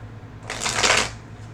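Tarot cards are shuffled once up close, a quick riffling burst of crisp papery flutter lasting under a second over a quiet room.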